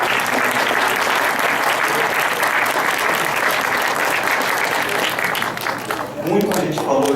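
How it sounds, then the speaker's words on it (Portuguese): Sustained audience applause at a lecture on trees and water, a continuous wash of clapping that thins and fades out near the end. "uma salva de palmas,"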